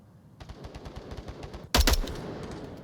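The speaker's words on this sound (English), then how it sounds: "I heard gunfire from objective when you got shot." Gunfire in the Onward VR shooter game: a quick run of faint, rapid shots, then a sudden loud close burst of automatic fire that trails off.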